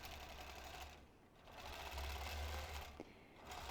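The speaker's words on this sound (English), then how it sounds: "I am sewing on a Gamel 26-inch Elevate" A Gammill 26-inch Elevate longarm quilting machine stitching, a steady, quiet, fast mechanical whir with a brief lull in the middle.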